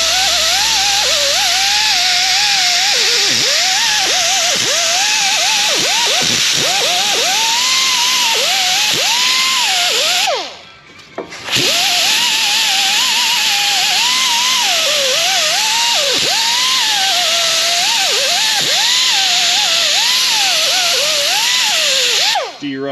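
Pneumatic tool grinding rust off Kia Sedona car parts, a loud, whining, wavering tone over harsh broadband grinding that runs almost continuously, cut by one short pause near the middle.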